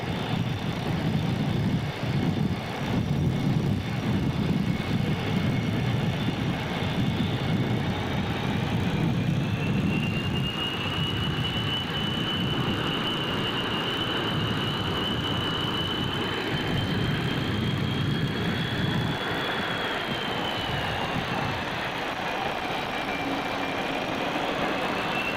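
A jet aircraft taxis across an aircraft carrier's flight deck toward the catapult, its engine whining steadily with a rising and falling high-pitched tone over a broad roar, loud and continuous for the whole stretch, with no voices.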